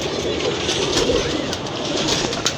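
Pigeons cooing in a kept flock, low murmuring coos half-buried in steady broadband noise, with no clear single call standing out.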